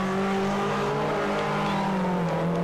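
VFTS rally car engine at an auto sprint, a loud continuous engine roar with steady revving tone, close and without voices.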